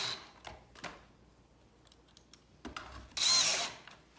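A power drill drives pocket screws into a farmhouse shoe bench, giving a couple of faint clicks and then a short, loud whir of about half a second near the end.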